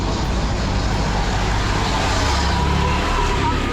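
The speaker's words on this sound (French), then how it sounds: "Ouais, une voiture qui arrive." Car approaching along a narrow street in Sintra, Portugal, on a rainy day, its engine a steady low rumble with road hiss that holds throughout the moment, fairly close and unbroken.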